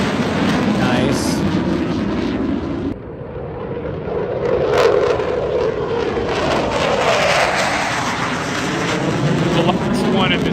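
A military jet departs low overhead with a loud, continuous roar that swells and sweeps in pitch as it passes close by, filling the whole stretch.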